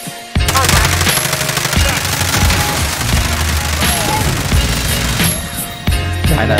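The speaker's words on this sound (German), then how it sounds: "Gut, ich kann da dann schießen." Dense automatic gunfire crackles almost without pause in Call of Duty: Warzone. The bursts are loud and close, with sharp shots layered over booming reports.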